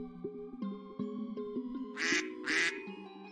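Two quick, raspy quacks from a colourful duck in The Darkside Detective game, heard over a plinking melodic tune.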